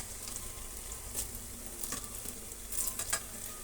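Rice bondas fry in hot oil in a pan, giving a steady, faint sizzle with a few soft stirring clinks and bubbling bursts, no voices.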